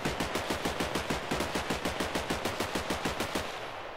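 Rapid automatic gunfire from a rifle fitted with a foregrip in the Minecraft WarField 3 mod, a steady stream of about twenty evenly spaced loud shots that stops abruptly near the end.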